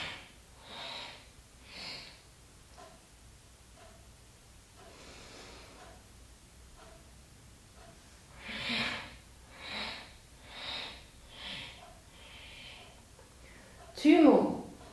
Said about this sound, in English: we're taking 4 more, breathing in and exhaling